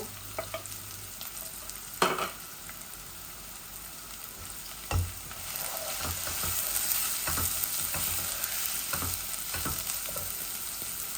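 Onions fry in a pan, with a steady quiet sizzle and occasional louder stirring knocks, close and continuous with no talk.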